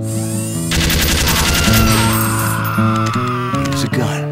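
Rapid heavy-caliber machine gun fire in Team Fortress 2, a loud sustained burst of shots in the foreground blended with game music and effects.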